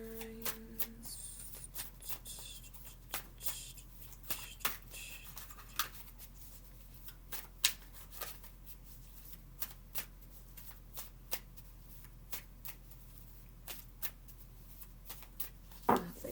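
A deck of tarot cards is shuffled by hand in a quiet room, with soft, repeated riffling snaps and flicks spread evenly across the stretch, close and gentle.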